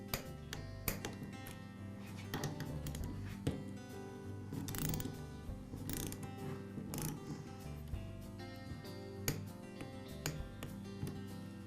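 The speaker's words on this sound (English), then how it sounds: "I'll torque the head bolts in a crossing pattern." A torque wrench tightening the cylinder head bolts on a Porter Cable air compressor in a crossing pattern, producing faint ratcheting clicks and small metallic taps and clunks at close range with no talking.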